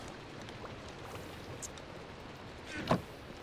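Steady soft rain hiss in the Minecraft video game, faint and continuous, with a brief louder knock or thud near the end.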